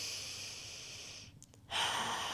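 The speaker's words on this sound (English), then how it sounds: "So deep breathing into my chest." One slow, deep breath drawn in and let out through the chest during a calming exercise, close and soft against a steady hiss of room noise, with no one talking.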